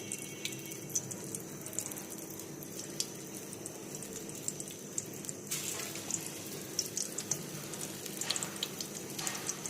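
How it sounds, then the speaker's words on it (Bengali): Chopped onions of medium, even size frying in a pan while cooking for iftar, giving a steady close sizzle with watery crackle and occasional sharper pops, no talking over it. "এই এখানে পেঁয়াজগুলো দিয়ে দিচ্ছি ভাজার জন্য।"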